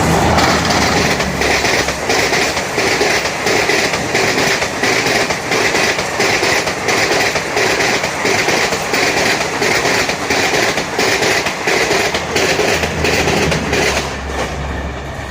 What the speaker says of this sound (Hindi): वेब फोर के साथ युवा एक्सप्रेस चली।